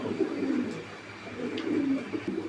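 A pigeon at a bird market coos softly and close, with a low, throaty, repeated rumble over steady background noise.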